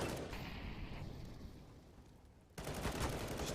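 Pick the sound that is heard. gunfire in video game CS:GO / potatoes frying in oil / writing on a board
gunfire in video game CS:GO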